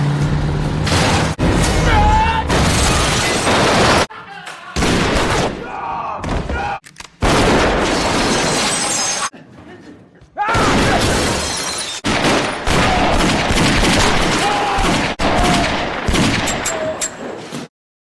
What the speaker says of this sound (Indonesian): mereka adu tembak